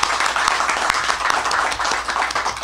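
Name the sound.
congregation applauding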